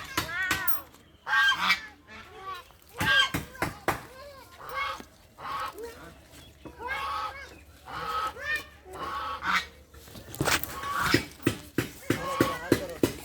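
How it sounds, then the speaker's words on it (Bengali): Domestic ducks honk and quack repeatedly outdoors, loud and close, in uneven bursts with short pauses, and people's voices are mixed in between the calls. "ইনান, ইনান হাঁস ধরো, দেখি কি করতে পারো।"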